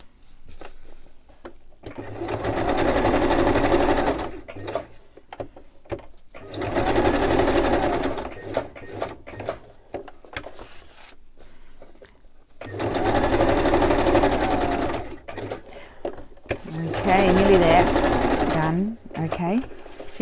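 A sewing machine stitches around a glassine bag in several loud runs of rapid, even needle chatter, separated by short pauses with small handling sounds.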